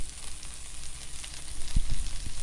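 String beans with small sliced chillies dropped into a hot pan with onion and garlic, giving a steady close sizzle and crackle with a few soft thuds of food landing, no voices.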